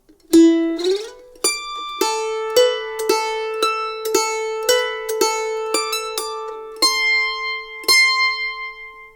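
Mandolin playing the tune of Twinkle Little Star at speed, a string of bright plucked notes with ringing overtones, steady quick rhythm and a few rapid triplet runs, close and clear with no talking.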